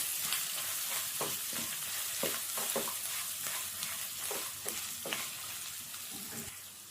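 Grated coconut and coriander being stirred into lemon rice in a hot pan, with a continuous close sizzle and soft repeated scraping stirs.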